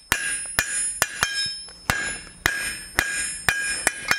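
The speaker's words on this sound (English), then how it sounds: "we strike down with our hammer, creating a shoulder and reducing the width of the material" A hammer strikes hot steel on the edge of an anvil while a roasting fork is forged, giving about ten sharp, ringing metallic blows at an uneven, unhurried pace, close and clear.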